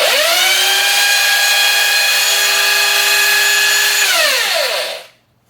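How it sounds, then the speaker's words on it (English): A 500-watt electric sander runs loud and steady with a high whirring motor tone, then winds down and stops near the end, leaving silence. "This sander, 500 watts. So this is a 500 watt sander."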